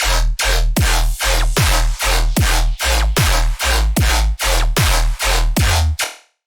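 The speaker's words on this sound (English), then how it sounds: "The drop sounds like this again." Riddim dubstep drop: loud, heavy wobbling bass stabs hit in a steady chopped rhythm with punchy drums, about a dozen hits before cutting off abruptly.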